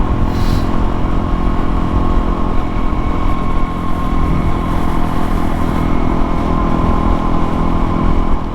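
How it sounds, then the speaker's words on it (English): A tuned motorcycle with an ECU tune and modifications runs steadily while being ridden, its engine droning loud and close under rushing wind with no speech. "bike is running absolutely amazing"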